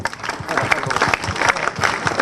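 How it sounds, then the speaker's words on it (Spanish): Crowd applause at an APRA political tribute marking an anniversary for Haya de la Torre, steady and fairly loud for about two seconds, mixed with raised voices and cheering. "Fuerte aplauso."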